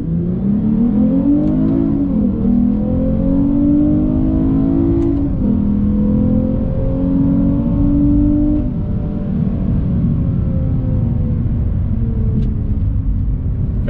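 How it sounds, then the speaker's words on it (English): A 2021 Lexus IS350 F Sport pulls away from a dead stop on throttle, its engine loud and close, rising in pitch through several upshifts with a steady rumbling drone throughout. "Here we go, dead stop again, on throttle."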